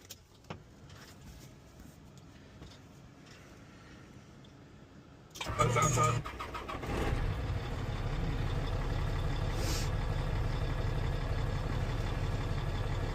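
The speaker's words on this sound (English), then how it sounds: "I want to start the truck." A semi truck's diesel engine cranks and fires up about midway after quiet cab sounds, then settles into a steady, loud low idle rumble.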